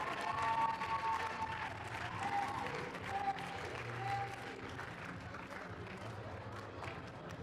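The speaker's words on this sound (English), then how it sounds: "Let's give her a big round of applause." Audience at a women's league grand final awards applauding, fairly faint clapping and light cheering that starts fuller and gradually tapers off, with some brief higher vocal sounds early on.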